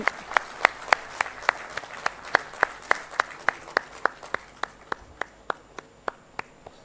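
Slow, evenly spaced claps from dignitaries on stage and an audience at a textile event in Odisha, one crisp rhythmic beat after another, with a faint murmur of the crowd underneath.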